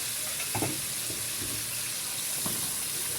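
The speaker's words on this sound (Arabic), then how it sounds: "نحط كده البصل اللي احنا متبلينه بيه." Seasoned onion being added to a cooking pot: a constant hiss of frying or running water with a few soft clattering stirs and scrapes, moderate volume, no voices.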